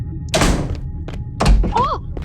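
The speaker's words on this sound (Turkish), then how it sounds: "Kapı niye kapandı şimdi kendi kendine?" A door swings shut on its own inside the horror game Asylum 77, giving a heavy thud, then a second solid knock about a second later, with a voice talking over the sounds.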